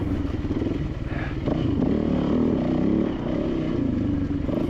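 A motorcycle threads through fire-killed forest deadfall on Whiskey Ridge, its engine droning loud and steady close by, with brief surges in revs and faint clatter from the rough ground.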